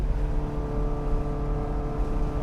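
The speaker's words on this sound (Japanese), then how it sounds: "この V8 エンジンのサウンド最高ですね" A Porsche 918 Spyder hybrid's V8 engine drones steadily while driving, a continuous low, tonal hum from inside the car with no speech.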